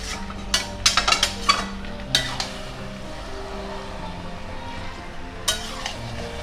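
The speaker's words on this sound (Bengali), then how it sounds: "মাংস দিয়ে কড়াই দিয়ে আমি নাড়বো" Chicken pieces stirred in a crowded wok, with a few sharp metallic scrapes and clinks of the utensil against the pan in bursts near the start and once later, over a low steady kitchen background.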